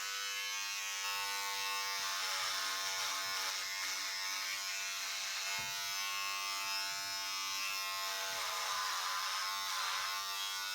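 An electric shaver runs continuously up close, its steady high-pitched buzz shifting slightly as it moves over stubble, alone with no speech.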